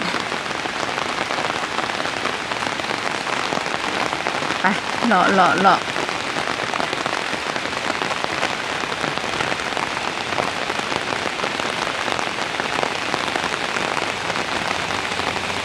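Steady rain patters densely on a surface throughout, with a brief voice murmuring partway through.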